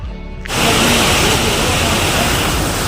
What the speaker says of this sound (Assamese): প্ৰায় 1 ঘণ্টা হ'ল বৰষুণ দি আছে।